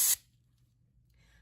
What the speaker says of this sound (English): take my air water syringe tip off to the side and test that it's air first